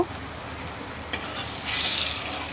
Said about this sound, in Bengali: কেটে রাখা ঝিঙেগুলো দিয়ে দিলাম ঝিঙেগুলো হালকা করে একটু ভেজে নেব